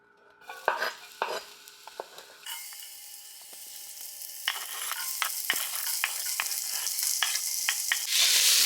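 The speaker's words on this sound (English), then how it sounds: "saute the onion and garlic, and then we'll do that for about a minute or so" Chopped onion and garlic go into hot olive oil in a large pot on high heat, giving clinks and stirring knocks at first, then a rising steady sizzle with repeated spoon scrapes, close and fairly loud.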